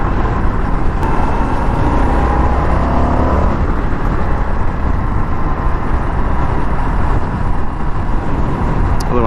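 A 2021 Indian FTR1200 motorcycle cruising in sixth gear at about 55 mph, just under 3,000 RPM, heard as a dense, steady engine and road roar with heavy wind rush throughout and no talking.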